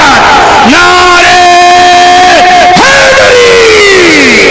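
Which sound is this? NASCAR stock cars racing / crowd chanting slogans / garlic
crowd chanting slogans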